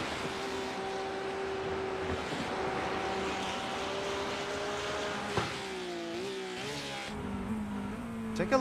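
GT3 race car engines in iRacing at Watkins Glen, a steady droning whine with shifting pitch as a car eases off to save fuel, moderately loud and continuous with a few sharp changes near the end.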